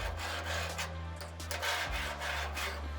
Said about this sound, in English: Usually, I brush everything first and then use the scraper part along the grates.